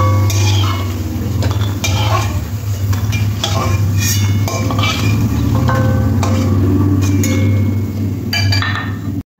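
Aloo lachha pakora fry in hot oil under a constant close sizzle. A utensil stirs the pan and clinks sharply against it again and again.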